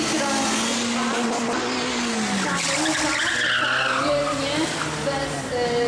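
A Citroen C2 rally car slides through a roundabout on a rally criterion stage in Ustroń, engine droning loudly with tire noise throughout, while a commentator speaks over it.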